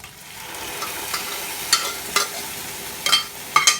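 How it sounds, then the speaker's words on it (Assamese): A spatula scrapes and stirs taro in a hot pan with fried onion and garlic paste. A steady sizzle runs throughout, with about six distinct stirring strokes, close and clear, and no talking. "এতিয়া আমি তাত কচুখিনি ঢালি দিলোঁ"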